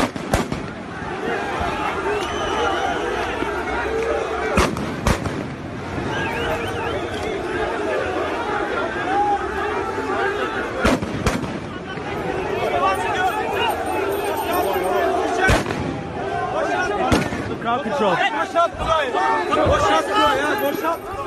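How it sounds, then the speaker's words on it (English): Gunshots fired into the air near a crowd during the failed Turkish coup of July 2016: repeated sharp cracks spread throughout, some isolated and some in quick pairs, over constant crowd chatter, shouting and hubbub. "They're firing in the air."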